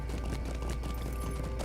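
Game horse galloping in The Lord of the Rings Online, hooves beating in a quick continuous rhythm through an even layer of ambient game sound and music.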